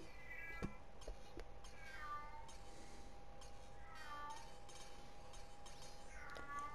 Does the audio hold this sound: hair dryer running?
no